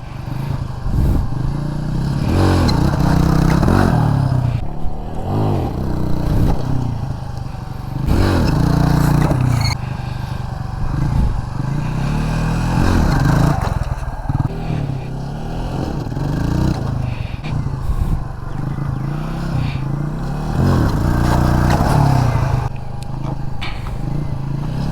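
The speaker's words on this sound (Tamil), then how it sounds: "இன்னும் கொஞ்சம் த்ராட்டில் சேர்த்து கொடுத்து இழுத்துக்கோங்க ப்ரோ வண்டி நல்லா." A KTM motorcycle engine repeatedly revved with bursts of throttle during wheelie stunt practice, loud surges rising and falling every few seconds, with a man giving instructions in between.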